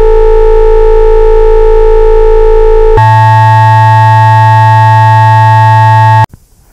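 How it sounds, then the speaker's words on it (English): Pure sine-wave tones following a harmonic series, held in two stacked chords, each sustained for several seconds, then cut off abruptly into near silence. "I will demonstrate this by creating multiple sine waves following the pattern of a harmonic series"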